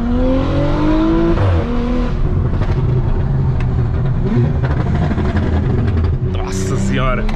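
A Porsche with a stage 2 exhaust rumbles and revs loudly throughout, with crackles and pops over the engine drone and brief tire noise near the end, while excited voices talk over it from inside the car.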